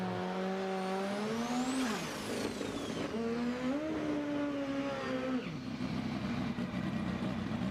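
Drag racing motorcycles, old-school mechanically injected turbo bikes against modern electronic fuel injection machines, roar past in loud rising and falling engine passes with pitch sweeps, continuous throughout.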